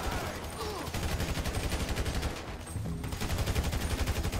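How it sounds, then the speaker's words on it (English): Video game shootout with rapid automatic gunfire, dense overlapping bursts rattling continuously at close range, loud and sustained throughout with a brief lull midway. "So I guess we're shooting our way out of here!"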